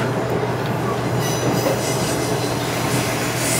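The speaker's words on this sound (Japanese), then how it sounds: "その列車を保管しておりましたスノーシェットを間もなく通過いたします" A JR Tadami Line train runs through a snow shed, giving a steady, loud rolling rumble with faint wheel clatter and a soft high squeal, continuous and enclosed.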